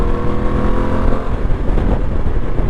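A Ducati Multistrada V2S motorcycle pulls hard under acceleration, its engine note rising and rough, loud and close throughout the short burst with no talk.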